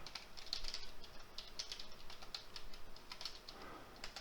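An email address typed on a computer keyboard, with quiet, quick, irregular key clicks in short bursts against faint room noise.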